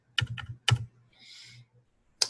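Keys tapped on a computer keyboard while entering a number into a spreadsheet cell during a practice exam: two quick bursts of close, crisp clicks, a soft swishing pause, then one last sharp keystroke.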